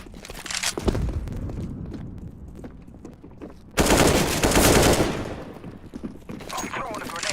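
Gunfire in a Counter-Strike wingman match, including sniper shots: bursts of rapid shooting separated by sharp single cracks, with one loud sustained volley in the middle and a player talking throughout.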